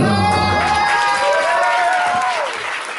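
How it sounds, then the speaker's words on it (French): Crowd applause and cheering at a slam poetry evening, loud and close, with whoops and a rising voice audible over the clapping as it gradually fades toward the end. "je vous demanderai d'applaudir très fort et chaleureusement Queen K."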